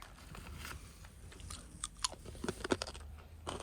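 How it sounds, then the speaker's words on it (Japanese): Someone eating beans brought from home while sitting in a snowbound kei car, with close, irregular crunching and chewing bites that grow louder and denser toward the end. "家から持ってきた豆を食べてます"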